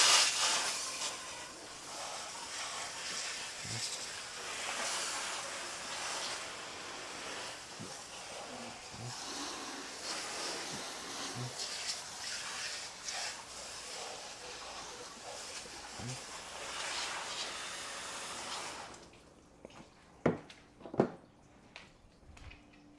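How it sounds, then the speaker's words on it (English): Broad steady hiss of a water hose spraying over a car engine bay to rinse off P21S Total Auto Wash cleaner, continuous and fairly loud for most of the stretch, then stopping and leaving a few faint clunks. "you want to make sure that you thoroughly rinse it off"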